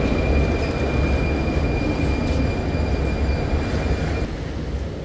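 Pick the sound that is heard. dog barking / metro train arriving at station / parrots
metro train arriving at station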